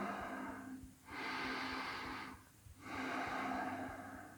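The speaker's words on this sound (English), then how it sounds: "We're going to take a couple breaths here." Slow, audible breaths held in a baby cobra yoga pose during a morning stretch class: two long airy inhales and exhales with brief pauses between, close and fairly quiet, with no talking.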